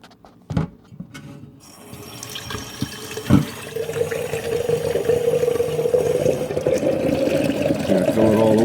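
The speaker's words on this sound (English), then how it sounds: "we're gonna come and put some water in here" Water pours steadily into a container for rooting a pineapple top in a home kitchen, a filling stream that starts after a few clatters and grows fuller and rising in pitch as it fills.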